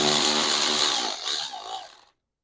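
Loud, close whine of a power tool running on 12 mm bolts of a Mazda Miata NB manual transmission, one sustained burst that dips and trails off before cutting out.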